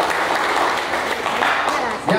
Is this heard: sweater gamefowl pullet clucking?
no